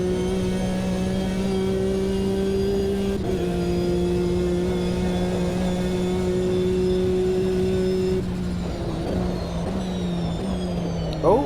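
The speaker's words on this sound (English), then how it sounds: "they look like they're pretty much all GT2s, so the LMP2s have just got through nice and easily." GT2 and LMP2 race cars in an endurance racing video game, a sustained engine drone with steady tonal whine that shifts pitch partway through as cars pass, continuous and fairly loud.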